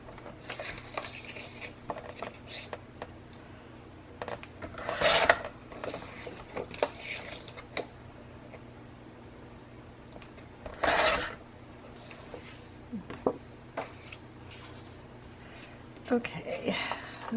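Paper being trimmed to make a booklet insert for a multi-pocket flip page craft: soft rasping cuts and rustling, with a few louder scraping swipes, under quiet talk.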